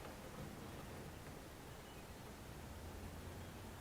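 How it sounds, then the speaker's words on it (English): Rain falls outdoors during a Ford Edge oil change as a steady, faint, even hiss that stays unbroken throughout, with no voices. "it is starting to rain pretty good, folks, and I'm out here getting soaked"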